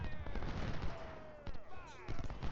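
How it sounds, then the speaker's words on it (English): Booming artillery and gunfire from a Civil War battle in a strategy game, with repeated blasts and crackling shots layered over steady battle noise, some loud near hits among more distant rumbling. "Oh, there must be artillery over here."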